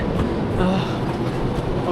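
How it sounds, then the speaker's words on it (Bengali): A Chinese bullet train runs smoothly on its rails, heard from inside the carriage as a steady low rumble and hum with no distinct clacks. "চায়নার ট্রেনের ভিতরে একদম স্মুথভাবে যাচ্ছে"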